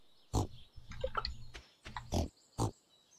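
Pigs oinking on a farm in the video game Stardew Valley: several short grunts in an uneven rhythm, close and fairly loud, with a soft game tone running underneath and no talk.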